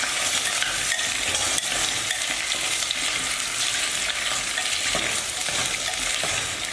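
Onions stir-fried in generous hot oil in a pan, a steady close sizzle with spatula scrapes and clicks throughout, no voices.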